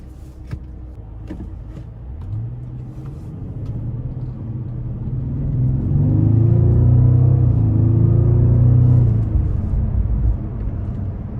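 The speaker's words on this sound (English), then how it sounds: "this car really does just move through the gears so effortlessly. That twin turbo power is just, it doesn't get old" A Bentley Flying Spur Speed with a twin-turbo W12 pulls hard through its gears from inside the cabin, a deep engine rumble building and swelling loudly with rising tones, no talking.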